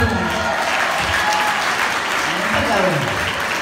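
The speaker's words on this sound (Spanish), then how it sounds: "Un aplauso para este hermoso niño." An audience claps steadily and fairly loudly for a young boy at a live show, with continuous applause filling the moment and a voice speaking over it.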